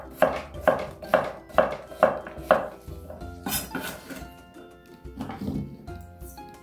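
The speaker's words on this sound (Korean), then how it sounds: "그다음에 애호박 4등분해서 이것도 마찬가지로 좀 약간 두껍게" A knife chops quartered zucchini into thick pieces on a board, with about six evenly spaced firm thuds followed by a few slower, irregular cuts.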